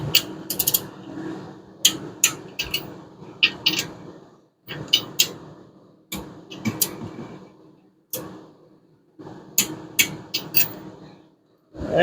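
Cylinder head bolts on a 5.7 Hemi engine in a Plymouth Duster being tightened with a wrench, heard as repeated bursts of clicking ratchet-like swings separated by brief pauses, close and clear.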